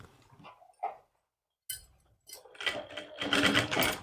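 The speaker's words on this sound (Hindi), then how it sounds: "सबसे पहले लगाए सेंटर की सिलाई।" Sewing machine stitching the centre seam of a suit lining: a few short, close mechanical bursts with pauses between them, then a louder, sustained run of rapid stitching toward the end.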